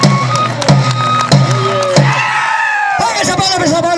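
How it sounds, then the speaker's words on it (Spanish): Crowd clapping and cheering at a Huaylarsh dance contest in Huachac, Chupaca, mixed with a loud announcer's voice, whoops and sharp percussive hits, busy and close. "¡Los aplausos, señores!"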